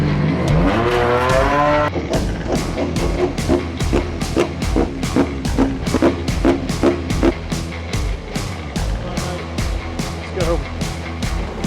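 Race cars launch off the grid at the start of a BMW touring car race, a loud roar of several engines revving hard and rising through gears, with rapid repeating shift pulses and continuous commentary voice over the engines.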